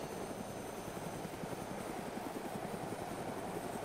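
A helicopter in the DayZ Origins video game drones with a steady, continuous rotor chop and engine whine, loud and unbroken throughout, with no talk over it.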